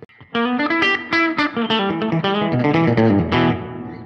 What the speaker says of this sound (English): It's a 65 spring reverb.